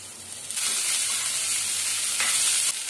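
Chopped okra drops into hot oil with mustard seeds, urad dal and onion. A loud, steady hiss of frying swells after a moment and keeps sizzling evenly throughout.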